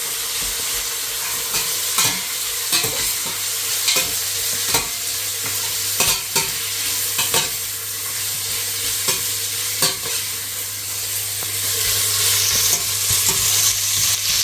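Loud steady sizzling of Arabian chicken kabsa biryani frying in a pan, with repeated scraping stir strokes over the continuous hiss, no talking.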